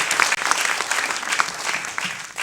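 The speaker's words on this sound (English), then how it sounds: "Let's give Touch a round of applause" Film festival audience applauding at a post-screening Q&A, a dense, steady wash of clapping from a crowd that fills the whole moment without letup.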